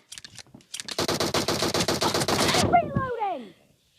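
Rapid automatic gunfire in a video game rattles loudly for nearly two seconds after a few scattered shots, then falling whistling tones trail off as it ends.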